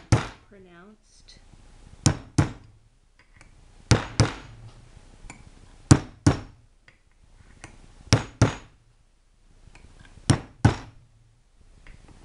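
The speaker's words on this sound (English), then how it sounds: "The reason I'm using a brass hammer is that because since the brass is soft, it's not going to flare out the ends of these little tools" Brass hammer tapping small chasing tools into copper, sharp metallic strikes in pairs repeating every two seconds, close and clear, with quiet talk between strikes.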